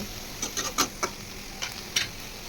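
Mashed teasel gourd (kakrol) with salt is stirred in a bowl, producing a handful of faint, irregular taps and soft scrapes of a spoon, close but quiet, with no speech.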